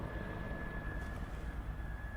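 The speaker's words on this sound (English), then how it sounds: "Was that a helicopter?" Helicopter flying overhead at a poetry reading, a steady low rotor rumble with a faint whine filling the moment, fairly distant and constant, with no voices.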